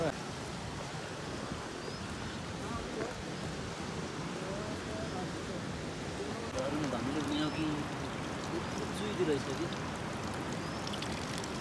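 A strongly flowing stream on the trail to Badimalika, heard as a steady, full rush of water that stays even from start to end, with faint voices underneath.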